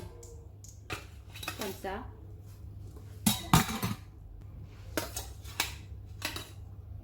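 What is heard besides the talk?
flipping the flatbread in the pan with a spatula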